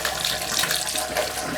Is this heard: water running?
yes